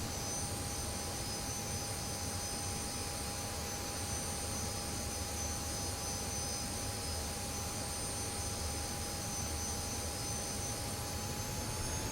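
An F-86F jet engine runs steadily on the ground in the DCS flight game, a constant loud roar with high whining tones that holds level throughout, no voices over it.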